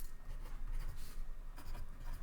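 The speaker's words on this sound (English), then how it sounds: "I probably should write this as R0 and S0." Chalk or marker writing math on a board, a continuous close scratching and tapping of strokes over about two seconds with no talk.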